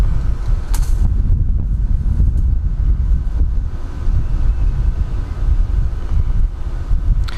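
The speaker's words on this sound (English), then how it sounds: "It's a little windy." Steady gusts of wind rush across the microphone in an outdoor garden, a continuous low roar with no voices heard.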